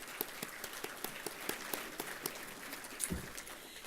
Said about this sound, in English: Let's give these board members one more round of applause